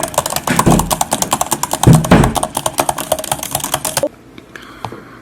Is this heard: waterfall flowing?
no